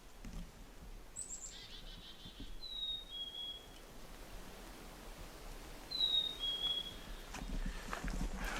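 A bird on a Michigan backcountry hiking trail gives thin, high whistled calls in a few short descending phrases, spaced several seconds apart and moderately distant over quiet outdoor ambience.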